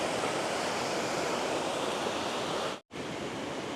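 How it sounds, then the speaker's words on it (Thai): Steady, dense roar of rushing water from Khlong Nam Lai Waterfall in Kamphaeng Phet, Thailand, loud and continuous, with a brief dropout near the end. "เสียงน้ำตกดังลั่นเลย"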